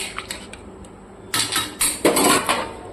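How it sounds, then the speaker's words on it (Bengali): A pot lid lifted off a simmering curry gives a couple of close metallic clinks and scrapes, followed by louder clattering of metal cookware, with no one talking. "ঢাকনা সরে এবার দেখে নিচ্ছি"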